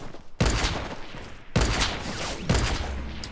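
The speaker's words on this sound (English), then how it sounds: "Someone's sniping from somewhere." Three heavy sniper rifle shots in Fortnite Mobile crack out at roughly one-second intervals, each a loud, sharp blast followed by a rolling echo tail.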